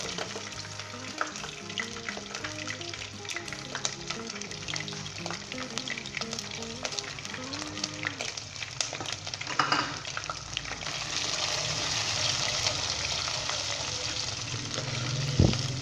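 Ginger frying in a pan over high-medium flame, a steady crackling sizzle with clinks and scrapes of stirring, the hiss swelling louder toward the end.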